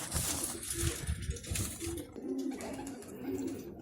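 Pigeons coo in soft, throaty bursts close by, with fluttery rustling and faint background noise.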